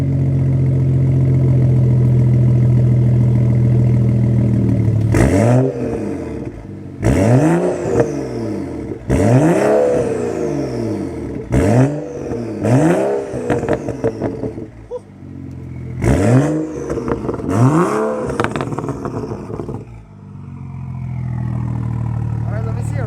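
A BMW 435i with a catless downpipe revs hard in a series of sharp, loud blips after about five seconds of steady idle, each rev rising and falling quickly, with short pauses between them.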